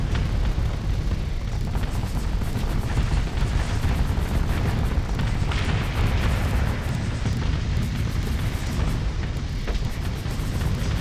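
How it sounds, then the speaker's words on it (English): Continuous roar of missile explosions in a space combat video game, a dense unbroken rumble with no talk over it. "All the missiles."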